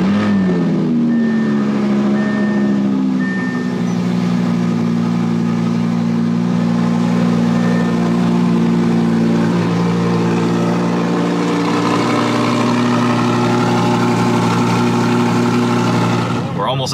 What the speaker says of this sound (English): But before any of that, cold start. So I'm going to apologize to my neighbors because this is going to be pretty loud.